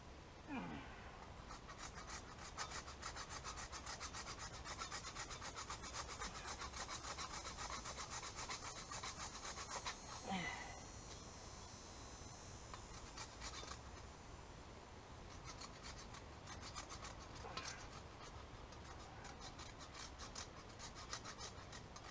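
A grater rasps steadily beside a clay rocket stove, with continuous rough scraping strokes that run on for a long stretch at low level.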